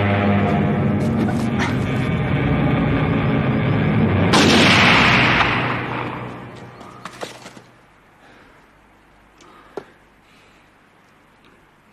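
Gunfire in a 1998 Russian war drama film: a sustained loud roar peaks in a sharp blast, then fades into scattered isolated cracks over quiet.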